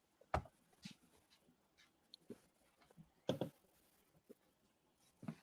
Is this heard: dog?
yes